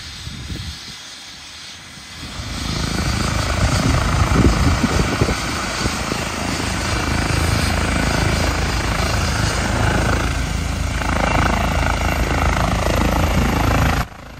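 A medical helicopter roars steadily and loudly nearby at an accident scene, its rotor and engine noise filling the air after a brief quieter start.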